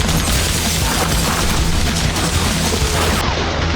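Dense, continuous machine gun fire in a film scene of a police station being stormed, loud and sustained throughout with heavy booming impacts blended into a thick wall of noise.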